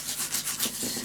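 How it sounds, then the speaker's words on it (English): A folded paper crease is burnished down for a keepsake treehouse box, giving about five soft, quick rubbing strokes in a steady back-and-forth rhythm, close and quiet. "fold it over, burnish it down"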